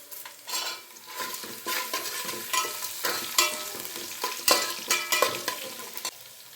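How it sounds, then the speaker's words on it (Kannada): Curry leaves and green chillies hit a hot oiled pan for vegetable bansi rava upma, crackling and sizzling close up while a utensil scrapes and stirs in irregular strokes, with no talking. "ಖಾರಕ್ಕೆ ಎಷ್ಟು ಬೇಕೋ ಅಷ್ಟು ಮೆಣಸಿನ್ಕಾಯಿ ಈಗ ಸ್ವಲ್ಪ ಕರ್ಬೇ ಸೊಪ್ಪು ಹಾಕ್ಕೊಂಡ್ಬಿಡ್ತೀನಿ"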